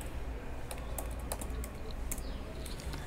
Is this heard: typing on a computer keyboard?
yes